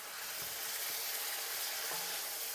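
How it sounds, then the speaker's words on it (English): Food stir-frying in a wok gives off a faint, even sizzling hiss that holds steady throughout, with no voices. "I love the sizzle."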